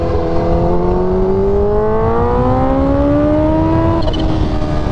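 Sport motorcycle engine with an abrupt on-off throttle, a nearly new bike, revving steadily upward in pitch and dipping sharply near the end, loud and close with no talking.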